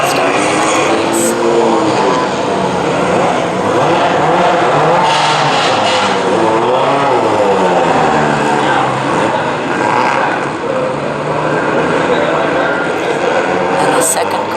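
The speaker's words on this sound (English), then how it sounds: "The cars for the race on Sunday are just heading out on the track." Race cars at a CalClub Hoosier Super Tour Sunday race head out onto the track. A loud, steady engine roar runs throughout, with rising and falling revs from several cars.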